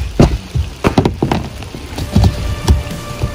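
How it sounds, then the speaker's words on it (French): Heavy rain falls outside a hut, with irregular loud drops and taps striking a hard surface close by in uneven bursts. "on continue cette vidéo parce qu'il pleut sa race."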